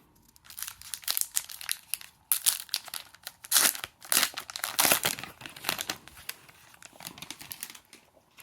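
A Panini trading card pack wrapper is torn and crinkled open close up, a run of sharp rustling and crackling bursts with brief pauses, loud at times and fading near the end.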